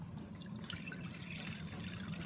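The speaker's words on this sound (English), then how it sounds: "put some water in here." Water poured into a container, a soft, steady trickling and splashing close by, faint and continuous with no talking.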